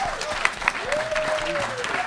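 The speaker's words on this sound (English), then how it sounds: "Please give them all a round of applause." An audience claps at a WURD Founders Day panel on Black media, the applause moderate and continuous beneath a speaking voice that carries through most of it.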